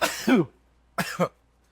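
Two rough coughs close to the listener, one then another about half a second apart, the second a quick double burst, with quiet between.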